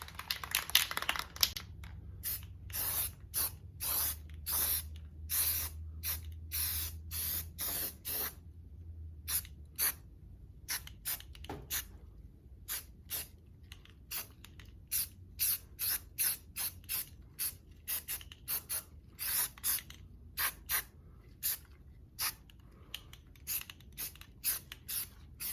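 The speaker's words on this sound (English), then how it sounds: "Gonna hit it with some air and spray some primer." Primer sprays onto bare truck metal in many short hissing bursts, some quick and repeated, others longer, with brief pauses between, close and fairly quiet.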